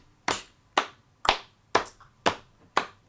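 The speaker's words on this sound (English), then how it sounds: "you're tapping the hands gently on the thighs and clapping them together." Hands alternately tapping gently on the thighs and clapping together in a steady rhythm of two, six crisp evenly spaced strikes, close and clear with no talk.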